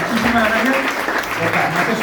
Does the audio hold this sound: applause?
yes